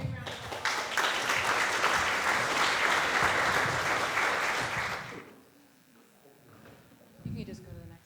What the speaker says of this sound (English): let's give you guys a big round of applause